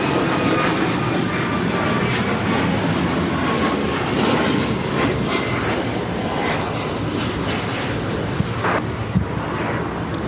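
Jet airliner engines roar continuously at Los Angeles International Airport, a steady loud broadband rumble with faint higher whine, no talk.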